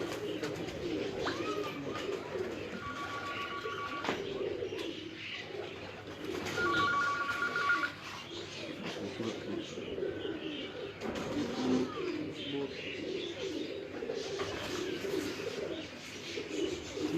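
Pigeons coo on a rooftop in Islamabad, soft repeated low coos rising and falling over ambient outdoor noise, with a few higher chirps and a brief electronic tone in between.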